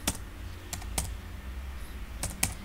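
Keys tapping on a computer keyboard while a single-line Python code comment is typed, a few quick bursts of clicks separated by short pauses, close and fairly quiet.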